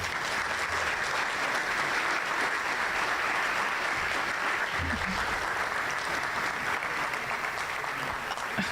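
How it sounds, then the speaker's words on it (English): A school audience gives a steady, sustained round of applause for graduating high school seniors at an indoor senior reception, a dense, even wash of many hands that continues without a break. "I ask that you join me in giving these students a round of applause"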